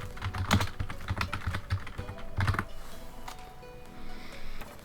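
Keys clacking on a computer keyboard as Python code is typed, a quick uneven run of close, fairly loud taps with a few heavier strokes, then lighter scattered presses.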